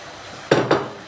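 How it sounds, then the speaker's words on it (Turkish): Fried carrots and other fried vegetables are tipped into a cooking pot for sultan kebab, giving two quick, close clattering thuds of food and metal. "Kızarttığımız malzemeleri katıyoruz içine."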